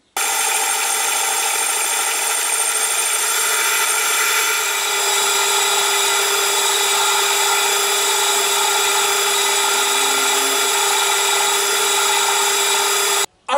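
Steady, continuous machining noise from a metal part being cut off on a lathe in a home workshop while making an indexing plate for a dividing head, a sustained whine with tonal hum running evenly throughout.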